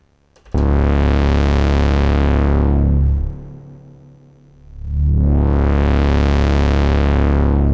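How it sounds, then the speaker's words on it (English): Synthesizer tone through a filter swept by a EuroPi module's sine-wave LFO, with spring reverb: a loud, sustained buzzy drone whose brightness slowly falls away to a muffled low hum, then swells back to full brightness over a multi-second cycle. "So let's take the LFO, the sine wave LFO from output 1, push that into the filter and we'll play around with that."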